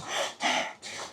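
Heavy panting from a player during an airsoft game, three close, loud breaths in a steady rhythm, alone with no talking.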